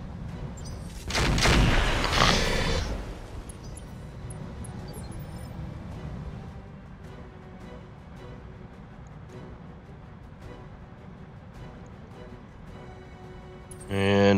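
Mech weapons fire in Battletech: Roguetech, a dense loud volley of booming shots that swells and then fades into a rumbling battle background, with a second burst at the end and talk over it.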